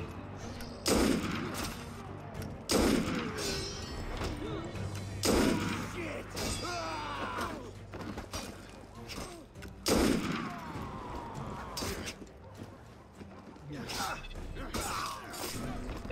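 Pistol gunfire in the video game Assassin's Creed Unity: several sharp shots crack out roughly every two seconds over a busy background of game effects and ambience, loud and close, with a few quieter impacts between them.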